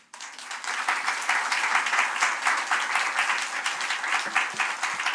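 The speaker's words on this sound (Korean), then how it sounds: "우리 목사님 나오실 때 감사와 또 사랑의 박수로 환영하겠습니다" Warm, dense applause from a Korean church congregation welcoming their pastor at a Holy Week revival service, steady and sustained for several seconds with no talking over it.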